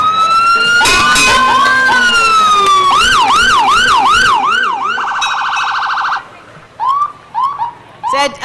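Mayville Fire Department trucks sound their sirens at a Fourth of July parade, loud, close wailing and rapid yelping tones that overlap at first, then give way to short separate whoops.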